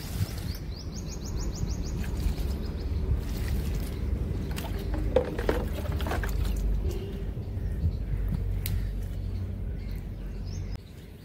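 Hibiscus plants in a garden being watered with soaked oil-cake water, a continuous splashing, rushing pour that runs for several seconds, with birds chirping faintly in the background.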